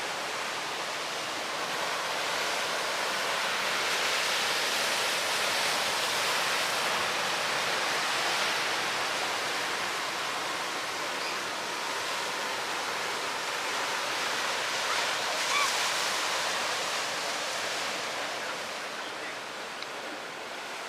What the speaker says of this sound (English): as you can hear in the background, we are walking along the sea